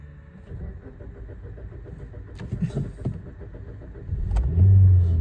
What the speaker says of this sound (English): Let's just start it up.